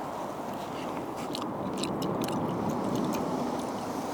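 Someone eats freshly caught Spanish mackerel outdoors on a breakwater, with soft chewing and small crunches close by over a steady wash of wind or sea noise.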